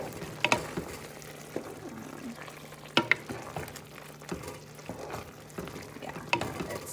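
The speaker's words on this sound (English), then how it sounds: "And then I have this cooking up real nice. Very soupy." Soupy eggplant cooking down in a pot is stirred, a low bubbling simmer with a few scattered clinks and scrapes of the utensil against the pot, fairly quiet and close.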